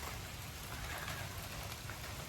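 Steady rain keeps coming down in western North Carolina after a heavier downpour, a soft, even hiss of drops on surfaces with no voices.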